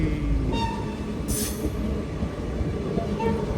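A Mumbai CSMT Superfast Express rolls past a platform at Tadipatri at night, a steady loud rumble of wheels with faint squeals and a brief metallic hiss partway through.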